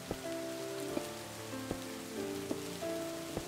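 Rain in the game Minecraft falls as a steady, soft hiss of drops on surfaces. Faint, evenly spaced clicks and a low tonal hum sit underneath, and no one speaks.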